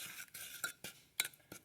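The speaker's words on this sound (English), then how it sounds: "I usually let it just keep stirring too so it don't burn on the bottom" A spoon scrapes and taps through melting butter and brown sugar in a pan, producing soft, irregular stirring scrapes with a few light clinks against the pan, close and quiet.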